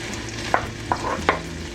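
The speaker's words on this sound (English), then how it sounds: "to my oil and butter, I'm going to add the garlic" Garlic dropped into hot oil and butter, a steady close sizzle broken by three short scraping or clinking accents from the pan, with nobody speaking.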